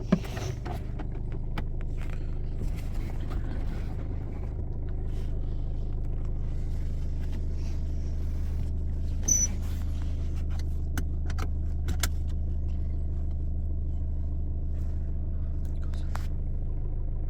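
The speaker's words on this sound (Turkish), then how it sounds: "Şu aracımız çalıştı. Birazcık ısınsın." A 2012 Ford Fiesta 1.4 TDCi 70 PS diesel idles just after starting. Its steady low rumble runs evenly under a few faint clicks and jingles.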